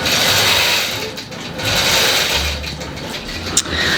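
A longarm quilting machine stitches a quilt with a fast, steady mechanical whirring and rapid needle chatter, running in bursts with slight pauses and a small click near the end.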